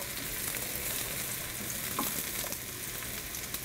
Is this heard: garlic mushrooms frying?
yes